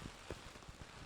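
Heavy rain pours down at an outdoor drift event, a steady hiss of water hitting surfaces with a few louder splashes and knocks standing out over a dense, even wash.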